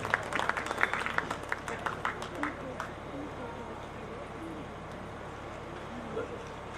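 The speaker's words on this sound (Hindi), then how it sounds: "तालियों से हम अतिथियों का स्वागत करें" Scattered hand claps from a small audience welcome guests at a kavi sammelan poetry gathering, sparse and uneven at first and fading out after a few seconds beneath faint voices and background murmur.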